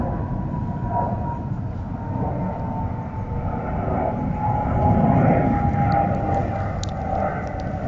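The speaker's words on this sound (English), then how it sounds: "Hello, plane." An airplane passes overhead along a flight path, giving a steady, loud, continuous engine roar and rumble that swells slightly midway and carries through the whole stretch, with no speech over it.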